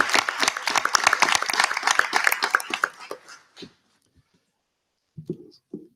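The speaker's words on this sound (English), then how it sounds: "I'd like to give them a round of applause" Brief audience applause at a school board meeting, dense clapping for about three seconds that thins out and stops, followed by silence and a few faint low sounds.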